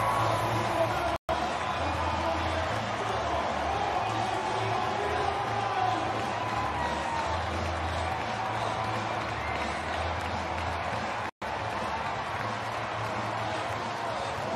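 A stadium crowd at a women's rugby sevens event in Hong Kong roars and cheers continuously as the two teams run out onto the field, a dense, sustained wall of voices with scattered clapping throughout.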